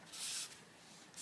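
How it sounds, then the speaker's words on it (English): Pastel smeared across a colouring book page, two soft brushy rubbing strokes heard close and faint, separated by a short pause. "Be careful when you're smearing pastel"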